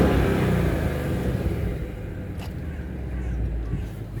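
A Ford Mustang 5.0 V8 GT Fastback engine gives a low, throaty rumble that swells at the start and then settles into a steady idle, heard from nearby and with no talking.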